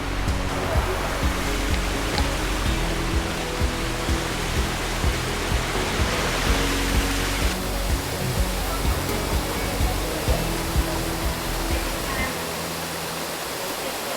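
A steady, loud roar of a waterfall rushing over lava rock columns at Sap Phlu waterfall in Phetchabun, Thailand, continuous and unbroken throughout.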